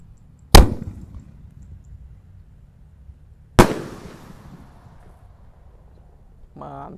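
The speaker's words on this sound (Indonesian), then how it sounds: "Langsung kita nyalakan solar blitz jumbo." Two loud, sharp blasts from Solar Blitz jumbo firecrackers go off about three seconds apart, each with a short echoing decay, and a brief voice follows at the end.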